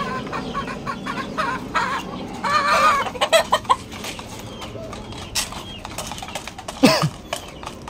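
Chickens and a rooster cluck and squawk in a backyard flock, with a few bursts of irregular calls close by and quieter clucking in between.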